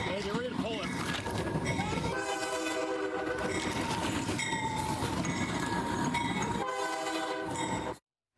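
An oncoming train sounds its horn in long, sustained blasts as it approaches the station near Seattle, loud and steady over rumbling wheels, then cuts off abruptly.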